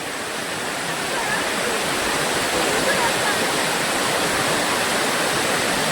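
Waterfall near Mahabaleshwar, a loud, steady roar of rushing water that is close and continuous throughout, with no pauses or changes in intensity.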